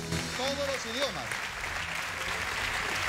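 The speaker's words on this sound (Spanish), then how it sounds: "Grande el aplauso para él." A live audience on a comedy show applauds a guest, steady clapping across the whole stretch, with a voice talking briefly over the start.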